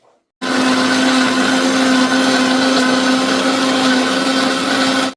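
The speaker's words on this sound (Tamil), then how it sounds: "இதையும் போட்டு சும்மா அடிப்போம் அடித்தா கொஞ்சம் தூள் ஆகட்டும்" A mixer grinder pulverising grated coconut and dried chillies, starting abruptly after a brief quiet moment and then running as a loud, steady motor whine with a strong hum throughout.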